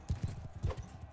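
Horse hooves clip-clopping in Mount & Blade II: Bannerlord, a quick run of several muffled, close thuds in an uneven galloping rhythm, alone with no talk.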